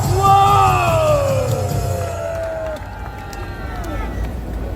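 A large crowd at an outdoor Korean political rally answers with loud whooping, yelling and clapping that starts strong and slowly fades, with cheers still carrying near the end.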